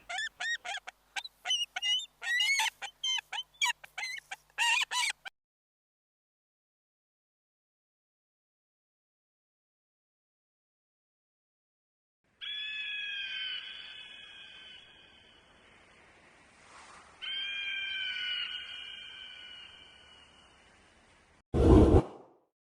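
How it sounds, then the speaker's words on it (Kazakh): An eagle calls, opening with a fast run of sharp chattering cries. After a silence come two long, drawn-out ringing screeches and a final short harsh burst. "Бүркіт."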